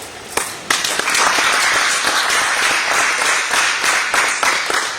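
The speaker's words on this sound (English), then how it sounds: "I think that deserves a better applause" A conference audience at a sports financing event claps in response to a minister's remark about the Sports Development Fund, with scattered opening claps swelling into sustained, fairly loud applause.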